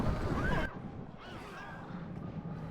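Horses neighing during a Rome: Total War battle: a couple of short, high, wavering whinnies that stand out clearly over a quiet, muffled battle background.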